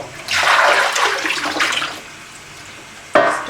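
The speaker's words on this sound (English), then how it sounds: "just dumping out the excess water coming there." Excess water pours out of a pot used for dyeing merino yarn, a close, steady splashing gush that tapers off, followed by a sharp clunk of the pot.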